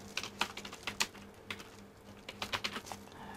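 Someone typing on a computer keyboard, a short run of light, close clicking keystrokes at an uneven pace over a low steady hum.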